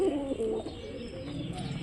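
Pigeons coo in short bursts at the start while feeding on scattered wheat and mustard seed in the morning, with steady low background noise and scuffling.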